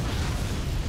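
A missile explodes in the Forts multiplayer game, heard as a dense, loud, rumbling blast with a heavy low-end roar that fills the whole short moment.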